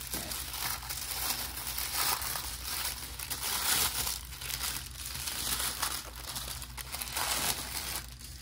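Tissue paper from the packaging of watercolor pencils crinkles and rustles close by in continuous, uneven handling for several seconds, with no talk over it.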